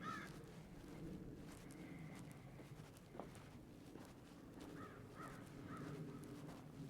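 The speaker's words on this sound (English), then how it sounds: "Crows on the snow are also really cool." Crows caw a few times at moderate distance over steady outdoor ambience in a snowy small town of Livingston, Montana, the calls short and spaced apart.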